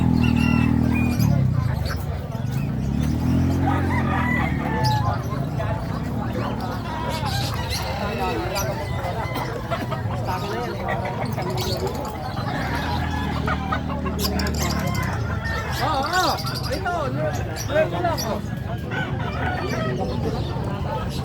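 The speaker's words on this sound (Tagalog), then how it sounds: "Ito, alagaing manok" Chickens cluck and a rooster crows continuously around a backyard poultry pen, close and busy, while someone talks over them throughout.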